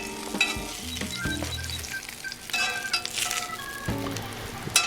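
Sausage sizzling and frying in a pan for a biscuits and gravy breakfast, a steady crackling hiss with a few clinks and stirring scrapes, close and fairly loud throughout.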